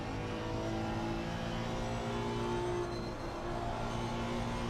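Race car engine from a racing video game at an Australian round, droning steadily at high revs for the whole stretch, dense and continuous with no talk over it.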